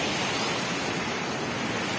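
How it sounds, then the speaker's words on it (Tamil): Water rushes down Bikkanapalli Falls in a dense, unbroken roar, loud and close with no voices over it. "இதுதான் மக்களே பிக்கனப்பள்ளி ஃபால்ஸ்"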